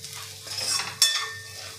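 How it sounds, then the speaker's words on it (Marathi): A spoon stirs and mixes sautéed sprouted moth beans (matki) in a pan, soft scraping swishes building to a sharp metallic clink, with faint sizzling underneath. "आता यामध्ये आपण जी मटकी परतलेली आहे ती मटकी यामध्ये आपल्याला घालून घ्यायची आहे आणि छान हे मिक्स करून घ्यायचं आहे।"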